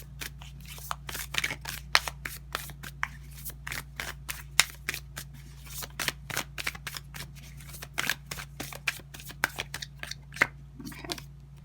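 Tarot cards are shuffled by hand, giving a long run of crisp, irregular flicks and snaps close to the listener over a low steady hum, with no speech.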